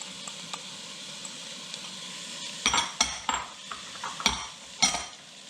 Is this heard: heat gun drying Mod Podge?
no